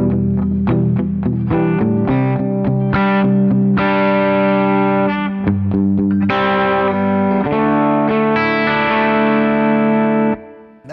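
Electric guitar played through a Deco drive pedal set for saturated rhythm tone, loud and close, with chugging muted chords that open into ringing, sustained distorted chords, alone without talk.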